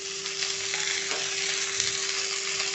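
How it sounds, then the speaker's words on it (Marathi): Chopped onion sizzling in hot oil in a pan while frying for a chicken handi gravy, a steady, dense crackle and hiss that runs continuously and close, with a faint stir or two. "इथे मी 2 ते 3 मिनिटं परतलेला आहे कांदा"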